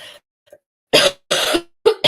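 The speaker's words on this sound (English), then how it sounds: "I coughed." Three loud, harsh congested coughs in quick succession, close to the microphone, after a short quiet pause.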